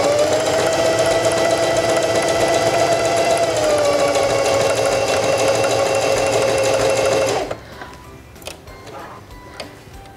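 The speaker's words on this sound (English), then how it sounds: "Select number 4 on your stitch selector dial and sew until you reach the bottom bar tack." A Heavy Duty 4411 sewing machine stitches a buttonhole with a steady, fast, motor-driven hum and rapid needle ticking for about seven seconds, then stops abruptly, leaving faint clicks and handling noises.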